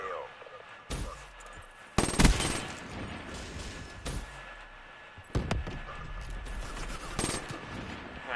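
Call of Duty gunfire heard as several sharp bursts of shots and automatic fire spread over a few seconds, fairly near and standing out against a steady game background.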